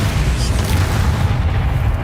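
Spell blasts from Bombarder and Confringo in the Hogwarts Legacy video game, heard as a continuous dense stream of booming, rumbling explosive bursts that fill the clip loudly and without pause.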